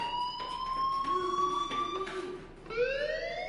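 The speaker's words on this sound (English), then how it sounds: "do you hear that fire alarm? That means you should be outside." Fire alarm ringing inside a PS4 video game: a steady electronic tone with rising sweeps, sounding alone at moderate level and restarting near the end.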